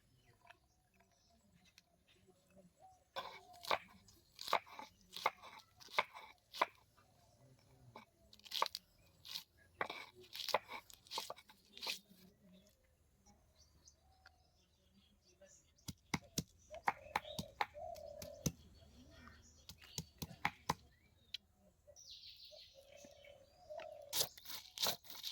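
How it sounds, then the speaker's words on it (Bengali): Coriander, garlic, dried chilli and ginger are ground into a paste, giving repeated sharp crunching, scraping strokes in irregular bursts, close and fairly quiet, with brief pauses between. "এখন আমরা বেটে নেব। ধনে, রসুন, শুকনো লঙ্কা,"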